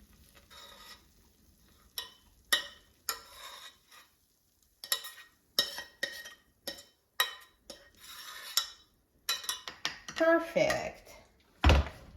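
Thick homemade kiwi jam is spooned and scraped out of a pot, with a series of sharp metallic clinks and scrapes in irregular bursts, close and moderately loud, ending in a louder knock.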